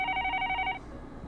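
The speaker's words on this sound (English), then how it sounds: "The phone on the desk rang," A desk telephone rings in a visual novel, Higurashi When They Cry, with a close, steady double-tone electronic trill that pulses for just under a second before cutting off into quiet room tone.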